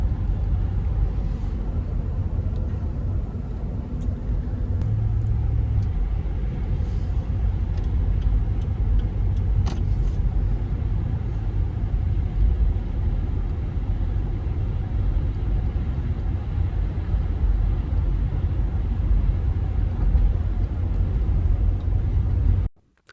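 A Ford vehicle drives after a transmission repair, with a steady low engine and road rumble heard from inside the cabin for over twenty seconds, with faint light ticks, before the sound cuts off abruptly.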